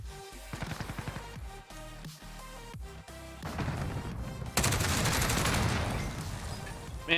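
Gunfire in a Modern Warfare multiplayer match: a few separate sharp bursts at first, then a louder, denser stretch of rapid shooting toward the end.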